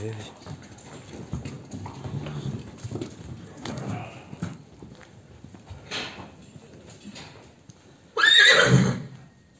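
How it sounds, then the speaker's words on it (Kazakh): A horse lets out a loud, close whinny near the end, after a stretch of quieter hoof clops and low background voices. "Asıl жылқы."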